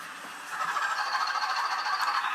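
A programmed model train runs along its track with a steady rolling whir and faint rhythmic clicking, close by and constant, no voices.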